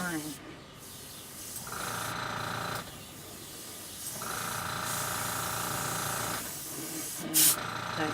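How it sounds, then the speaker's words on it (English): An airbrush sprays paint in a steady close hiss that swells in several long bursts with brief gaps between them, while a person talks quietly underneath. "To take dominion of the airbrush."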